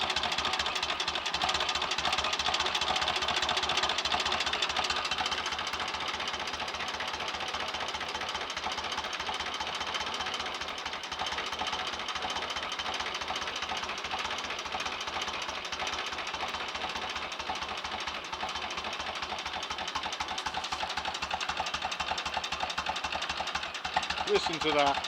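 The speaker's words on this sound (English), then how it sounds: "What a beautiful old engine." A 1930 Royal Enfield Model K 1000 cc motorcycle engine idles steadily with a rapid, knocking mechanical beat, loud and close throughout.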